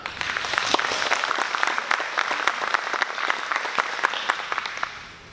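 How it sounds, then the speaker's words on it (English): A live audience applauds, a lively, sustained burst of many hands clapping that stays strong and close before easing slightly at the end. "So round of applause for BDAR."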